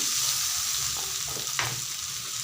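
Young jackfruit frying in a pan with a steady, close hiss and sizzle, and a few light scrapes and stirs near the end.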